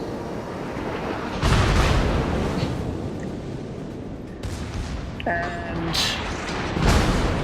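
Heavy naval guns fire from battleships in a warship game, with a few deep booming salvos rumbling over a constant roar of battle, while someone talks over them.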